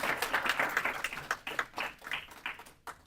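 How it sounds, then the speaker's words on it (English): Conference audience applauding a speaker at a hacker event, a dense patter of many hands clapping that swells and ebbs, then tapers toward the end, fairly close and with no voices over it. "So give him a big round of applause."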